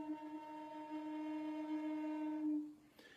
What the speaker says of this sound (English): you will make the flute's lowest possible note, sometimes called the fundamental note.